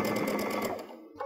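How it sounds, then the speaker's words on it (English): A Baby Lock sewing machine fitted with an adjustable seam guide stitches a seam in a close, loud, fast burst that stops about a second in, leaving near silence. "I'm kind of keeping an eye on the back of my fabric as it's coming out of the needle"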